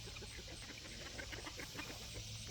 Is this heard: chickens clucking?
yes